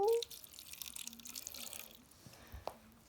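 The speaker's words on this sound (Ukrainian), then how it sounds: "Зараз ми нальємо водичку." Water runs from a tap into a filter container, a soft broadband splash over the first two seconds that tails off into faint trickles and a few drips, with light voice murmurs underneath.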